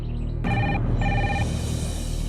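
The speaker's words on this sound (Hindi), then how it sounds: "ये फोन ना बार बार बजने लगा है।" A telephone rings in two short electronic trills separated by a brief pause, over a low background hum.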